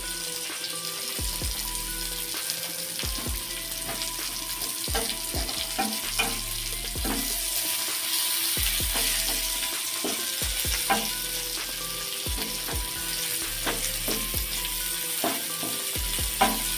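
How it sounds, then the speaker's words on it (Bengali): Cinnamon, cardamom and whole cumin sizzling and crackling in hot oil, with a spoon clinking and scraping the pan now and then. "এগুলো ভাজা ভাজা হোক"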